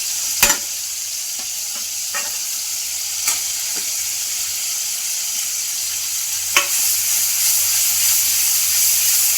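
Vegetables for veg ghugni frying in a pan give a steady loud sizzle and hiss, broken by a few sharp scrapes and knocks of a stirring spoon, close up with no voices.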